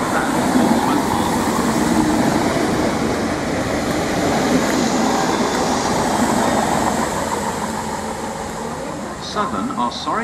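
A train stands at a platform of Chichester railway station, a loud, continuous low rumble and hum of engines and air conditioning, with a faint voice over it and a few hiss bursts near the end.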